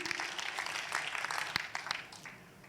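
A church congregation applauding during a service, a brief burst of scattered claps that thins out over a few seconds, with a voice faintly underneath.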